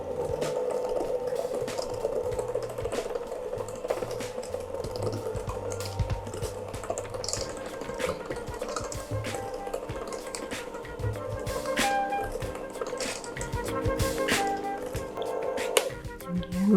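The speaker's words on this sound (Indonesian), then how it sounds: "Nyalakan mixer lagi." An electric mixer runs steadily while flour is mixed into chocolate cupcake batter, giving a continuous whirring hum with scraping and clattering from the bowl.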